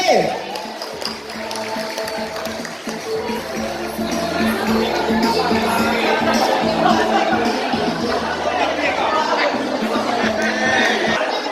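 Audience at a village training closing ceremony applauding and cheering for class C, a loud sustained roar of clapping, shouts and chatter that holds steady throughout.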